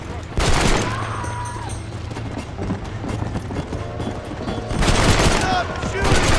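Gunfire in the video game Red Dead Redemption, with a dense burst of shots at the start and another volley near the end over a loud busy game soundscape, including a brief shouted voice.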